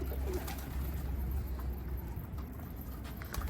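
Pigeons coo softly and repeatedly, mixed with a low rumbling background and occasional light patter, at moderate distance with no talking.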